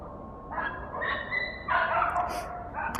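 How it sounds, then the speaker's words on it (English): Dogs somewhere along an evening street in Madrid give several short barks and yips in quick succession, fairly faint and at a distance over low background hum. "I can hear some doggy friends in the background."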